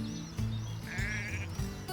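Sheep bleating on a dairy farm among cattle, several wavering bleats close by at moderate loudness, with no talk over them.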